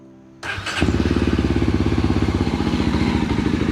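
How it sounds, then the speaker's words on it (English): A Yezdi Adventure motorcycle engine fires up and settles into a loud, close, steady idle with a throbbing, lumpy exhaust pulse. "I'm hoping that you guys will get to hear the nearest possible exhaust rhythm"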